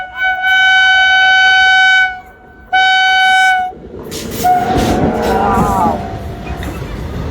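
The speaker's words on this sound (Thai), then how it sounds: "รถไฟวิ่งผ่านก่อนญาติโยมนะ" A passing train sounds its horn in two long, loud blasts, then the heavy rumble and clatter of the passing cars follows close by. A voice exclaims briefly as the cars pass.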